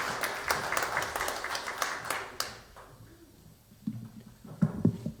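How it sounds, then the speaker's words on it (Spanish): An audience at a book presentation bursts into a dense round of applause for the author, which fades after about two and a half seconds, with a few scattered claps and murmurs after it. "Lo recibimos con un fuerte aplauso, por favor, al autor del libro Explotación digital"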